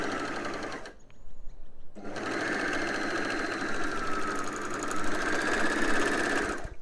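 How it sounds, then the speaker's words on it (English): An overlocker sews a seam on knickers fabric, running in a steady, dense mechanical whir that stops briefly for about a second near the start, then resumes and continues strongly to the end, close and loud. "I'm not taking off very much as I overlock"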